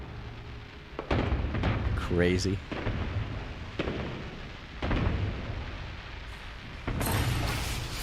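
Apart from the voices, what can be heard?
fireworks coming out of a starship in No Man's Sky video game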